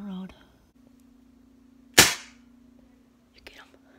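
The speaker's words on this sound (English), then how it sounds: "We just shot." A single sharp gunshot cracks out while squirrel hunting outdoors after a snowstorm, a loud brief blast with a short decaying tail, preceded by a quiet steady hum and followed by faint rustling.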